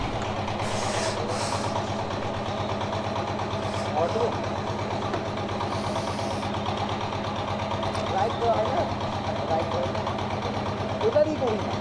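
A motorcycle engine idles with a steady low rumble, close and continuous, while someone talks over it.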